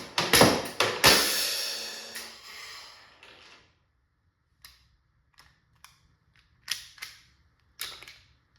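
A Umarex Glock 17 Gen5 .43 caliber CO2 pistol fitted with a homemade firing pin fires a rapid burst of sharp cracks with a fading gas hiss, then several single, spaced clicks and pops. Close and loud at first, with no speech.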